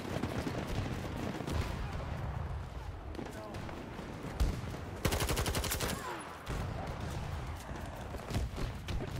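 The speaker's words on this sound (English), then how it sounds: "I'm getting shot at with some sort of weird pistol" Pistol fire rattles through a Battlefield 2042 match, with a quick run of regular shots midway amid dense battle noise, while a player talks over the action.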